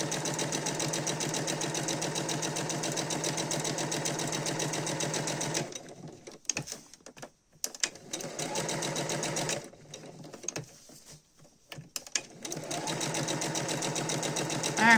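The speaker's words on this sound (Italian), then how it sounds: "Io adesso vado sotto macchina e lo facciamo subito insieme. Quindi vado a cucire, abbasso l'ago e mi faccio questa cucitura." A sewing machine stitches a seam, its close, steady motor whir running in long bursts, stopping for a few seconds of quiet handling, then starting again.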